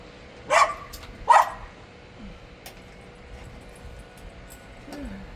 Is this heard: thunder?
no